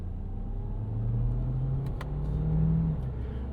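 A 2025 Kia Sorento plug-in hybrid SUV accelerates through city streets, a low engine rumble from inside the cabin swelling in two surges as it pulls out of corners.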